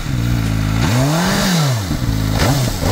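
A CF Moto 500SR motorcycle with its stock dual exhaust, loud and close, rising and falling through two sharp revs over a steady idle rumble.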